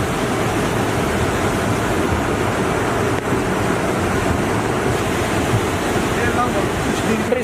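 A river swollen by the 2023 Kullu Manali flood roars past an old bridge in one loud, unbroken rush of churning water, steady and close throughout.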